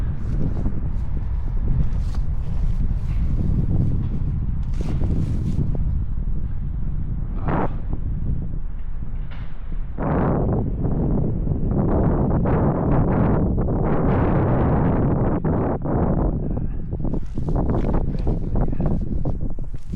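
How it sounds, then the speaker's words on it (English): Strong wind blowing across an old, wet baseball field, loud buffeting rumbles against the microphone in repeated gusts lasting the whole stretch. "Oh, there's that wind."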